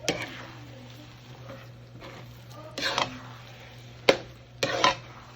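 Tapol glutinous sticky rice from Masbate is stirred with latik in a pot: a low, steady scraping and squishing bed broken by a few sharp utensil knocks against the pan, close and moderately loud.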